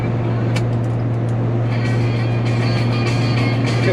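A 1986 BMW E30 325ES cruises on a highway. Its steady engine drone and road hum hold constant, with a strong low tone running underneath and faint clicks and hiss on top.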